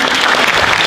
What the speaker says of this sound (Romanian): Vă rog să-i răsplătim cu aplauze.